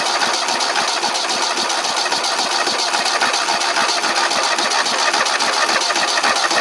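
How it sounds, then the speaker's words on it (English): Engine cranking steadily, powered by a Lokithor J400 jump starter: a continuous loud, rapid rhythmic churning of the starter motor that goes on without firing, close to the microphone. "And it'll just crank and crank until it gets tired."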